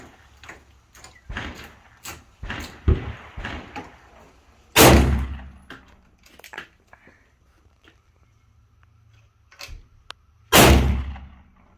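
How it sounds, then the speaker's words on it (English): A bear protection revolver is test fired outdoors: two loud, sharp gunshots several seconds apart, each with a quick booming decay, separated by quieter handling clicks and knocks. "we're just verifying function and point of impact for the bear protection revolver"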